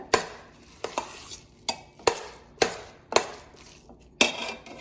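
Spoon stirring salted curd rice in a vessel, a series of sharp scraping strokes repeating about every half second, close and fairly loud with no voices.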